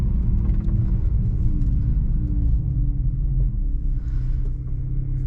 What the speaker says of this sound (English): This car actually does have a launch control that I'm gonna hit right now